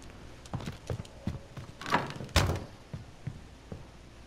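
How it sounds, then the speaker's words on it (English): A claymore mine is planted in Warzone on Rebirth Island: a run of soft mechanical clicks and thuds, with two heavier knocks in the middle, close and fairly quiet. "Planting claymore."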